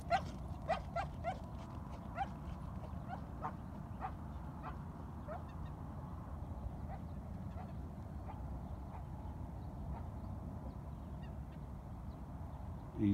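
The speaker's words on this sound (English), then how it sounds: "Hopefully you can see this dog running that rabbit." A pitbull boxer mix dog gives a quick run of sharp barks while chasing a jackrabbit outdoors, and the barks grow sparser and fainter as the dog moves away over a low background rumble.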